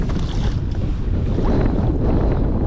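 Strong wind blasts across open water, a loud continuous rumble of microphone buffeting with no other sounds breaking through.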